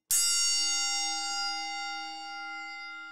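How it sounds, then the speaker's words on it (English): A boxing round bell gives a single sharp ring, loud and close, with a long metallic decay that fades slowly across several seconds, heard on its own. "Why does this dude have a boxing round bell with him?"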